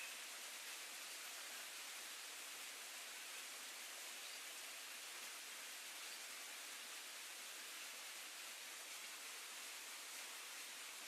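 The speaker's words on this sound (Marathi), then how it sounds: "वड्याला पूर आला, वड्याला फुल पाणी चालू आहे." A stream in flood rushes in a steady, dense roar that stays even and unbroken throughout, faint and distant, with no talking.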